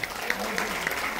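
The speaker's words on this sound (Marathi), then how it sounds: "जोरदार टाळ्या यांच्यासाठी." Audience applause at a women's entrepreneur stage event, a steady wash of clapping with a few sharper claps standing out over the brief moment.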